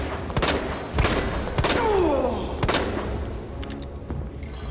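A fusillade of gunshots in Resident Evil 2 cracks out in a ragged run of about five loud, close blasts, with booming echoes and faint voices of the game in the background.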